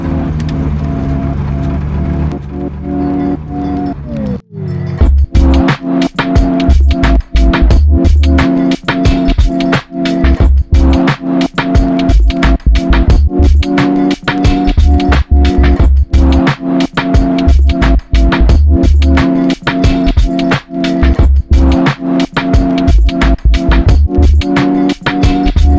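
A BMW E36 rally car drives a wet street, its engine note held steady at first, then pulsing through repeated sharp revs and gear changes, loud and close throughout with no talk.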